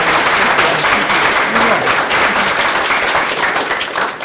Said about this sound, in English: Why don't we give her another round of applause?